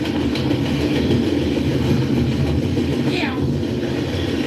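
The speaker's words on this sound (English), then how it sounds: "Another intermodal going east or westbound, westbound." An intermodal freight train rolls along the rails, a long steady rumble with continuous wheel noise throughout, close and loud, with a brief voice over it.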